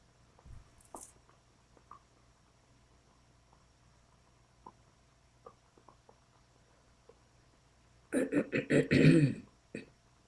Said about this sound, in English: When I clear my throat.